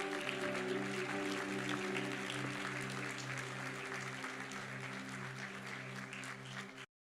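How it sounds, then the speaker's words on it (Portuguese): Faint sustained applause from a church congregation over a held organ or keyboard chord, continuing steadily before cutting off at the end. "Dê um aplauso ao Senhor bem forte."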